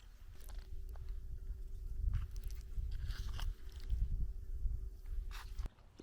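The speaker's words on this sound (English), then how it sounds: "The pearl barley's got a nice crunch to it." Someone chews crunchy pearl barley with beef from a Russian border service ration pack, close and wet with repeated soft crunching bites and mouth sounds running steadily before stopping abruptly near the end.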